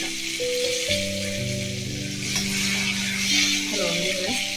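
Cumin, turmeric and garlic fry in hot oil with mustard seeds, a continuous hissing sizzle under a steady electrical hum with tonal whine, no one speaking.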